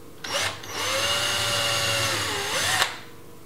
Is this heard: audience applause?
no